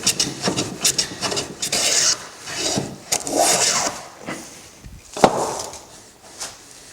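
A hand plane shoots the edge of a wooden board clamped in a vise for a Shaker candle box, giving a series of close, rasping strokes in an uneven rhythm with short pauses between passes.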